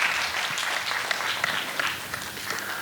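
An audience applauding, a short burst of dense clapping that stays fairly even throughout, close and loud.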